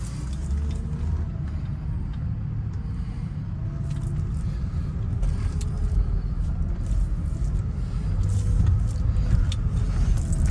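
A 2003 Mercedes SL500 with a coilover conversion pulls away for a drive, its engine a low steady rumble under faint cabin rattles, close and continuous throughout.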